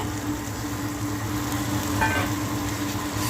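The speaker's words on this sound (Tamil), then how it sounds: "இப்போ இந்த காயை சேர்த்துக்கணும் பாருங்களேன் கோவக்காயை" Ivy gourd (kovakkai) tipped into a pan of lightly frying onions gives a steady, close sizzle throughout, briefly flaring brighter partway through as the vegetables hit the hot oil; no one speaks.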